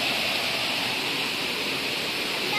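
Water pours steadily at a rural village water source near a tank, a loud continuous hiss and rush that does not let up and has no talking over it.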